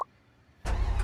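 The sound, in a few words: car engine starting in the video game Free Fire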